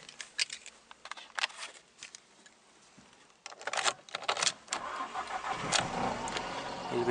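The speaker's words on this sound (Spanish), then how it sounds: "El vehículo enciende correctamente." A Fiat Palio cranks with a rapid starter chatter and catches, its engine settling into a steady idle, with some clicks and handling noise before it starts.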